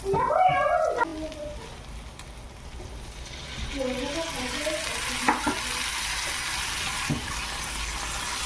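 Butter sizzling with garlic in a pan, a steady frying hiss with occasional stirring clicks, preceded by a brief voice-like sound at the start.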